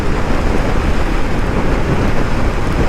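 A strong wind blast roars over the microphone while a KTM Duke 390 motorcycle is ridden, a loud, constant rumbling buffet that fills the whole stretch without any talk.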